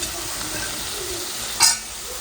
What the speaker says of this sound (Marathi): अगोदर छान तीन चार मिनटं परतून घेतल्या भाज्या